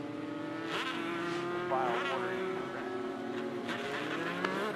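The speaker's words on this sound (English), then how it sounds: "Cars sliding around quite a bit. Looks like they're driving on ice out there." Legend race cars circle Auburndale Speedway, a Florida oval track, their engines droning and revving in overlapping passes with tire squeal as they slide, heard from a distance at moderate level.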